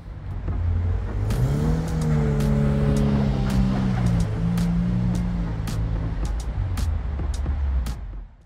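A Toyota MK1 MR2 does donuts in snow on a private road, its engine revving and wavering in pitch under a steady rush of tyre and wind noise, with scattered sharp clicks and thumps.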